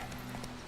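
Hoofbeats of Roach, the horse in the video game The Witcher 3: Wild Hunt, a steady close clip-clop running without a break through a short moment.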